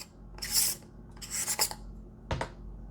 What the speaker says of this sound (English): you can actually unscrew your lens cap